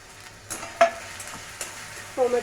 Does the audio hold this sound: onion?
yes